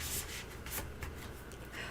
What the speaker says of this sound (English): I'm going to let you shuffle, of course, and then we'll cut.